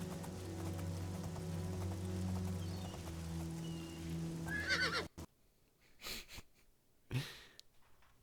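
Horse neighing in the Oblivion video game, a whinny over steady droning game ambience, followed by a sharp cutoff into near silence with a few short bursts as the game crashes.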